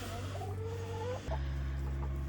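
Chickens clucking inside a backyard coop kept as a year-round habitat, with low chattering clucks and a drawn-out call over a steady low hum, close by.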